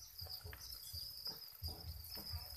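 Crickets chirp in a constant high, thin trill, with a low patter and soft rustling of the insects moving nearby; the sound is quiet and close, with no voices.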